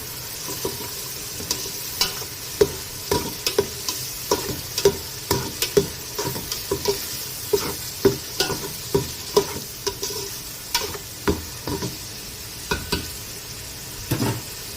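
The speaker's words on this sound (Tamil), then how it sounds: "பச்சை வாசனை போகிற அளவுக்கு வதக்கிக்கலாம்." Mushroom biryani masala sautéed in a pan, a rhythmic run of regular spatula strokes knocking and scraping over a constant low sizzle, close and alone without talk.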